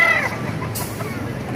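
Chickens cluck amid the steady bustle of a crowded poultry market in Baliuag, Bulacan, with a brief high call near the start and people talking faintly in the background.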